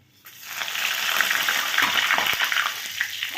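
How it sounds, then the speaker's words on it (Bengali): Cinnamon, cardamom and whole spices hit hot mustard oil in a pan with a loud, continuous sizzle and crackle, close and steady throughout, with no talking. "তোমরা আওয়াজটা শুনেই বুঝতে পারছো যে কী সুন্দর তোমার তেলটা গরম হয়েছে"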